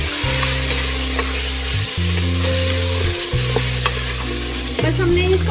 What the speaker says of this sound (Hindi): 1-2 मिनट के लिए इसको भूनना है।